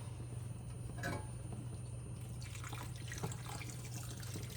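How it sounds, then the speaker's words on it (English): Water is poured into a cooking pot while making smoky jollof rice, a soft trickle at first that turns into a steadier splashing pour in the second half, with a low hum underneath. "I'm going to just add that water there."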